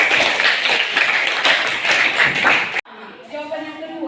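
Students in a junior high school classroom give a lively round of clapping for a classmate, a busy burst of hands lasting nearly three seconds before cutting off abruptly into quieter room sound and a voice.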